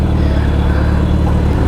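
A Suzuki Hayabusa engine runs loud and close in traffic, a steady deep low rumble with constant mechanical drone and no clear revving, recorded from the bike itself.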